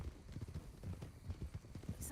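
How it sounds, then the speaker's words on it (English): Hooves clip-clop from a horse in a video game, irregular and fairly soft amid low game noise, with a voice talking over it. "Oh, that's his horse."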